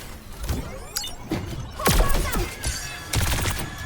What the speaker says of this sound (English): Alright, let's give her missiles a try.